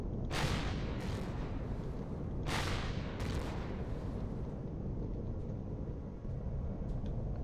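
Rocket launcher turrets firing in the space survival game Empyrion Galactic Survival: two or three loud, booming launch blasts over a steady roaring rumble, with no voices.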